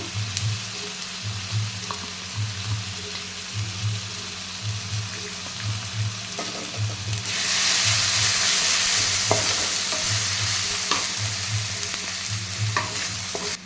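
Ginger garlic paste sizzles steadily in a hot pan of oil while a spoon stirs it. A loud hiss of frying swells midway and holds, and a low rhythmic hum pulses underneath.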